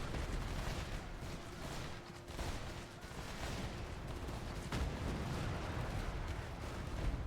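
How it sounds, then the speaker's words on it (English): Cannons firing in a 3v3 battle in the strategy game War Selection, a dense, continuous barrage of booming blasts and rumbling explosions layered over one another, moderately loud and sustained without pause. "We've got cannons. Look at those cannons."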